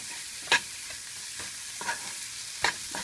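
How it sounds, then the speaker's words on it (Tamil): Egg puff filling deep frying in hot oil, a continuous bright hiss with a few sudden louder crackles and spoon scrapes, close and steady, no voices. "இந்த நேரம் டீப் ஃப்ரை ஆகட்டும்."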